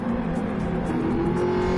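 A Jaguar Gr.4 race car engine in Gran Turismo 7 on a Switzerland circuit sustains a strong, steady high-revving whine close up, with no voices over it.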